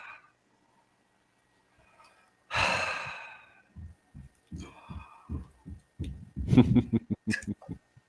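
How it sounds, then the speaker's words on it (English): One deep breath in a breathing exercise: a long, loud exhale close to the microphone, followed by soft, low thumps and rustles. "suddenly just a few breaths"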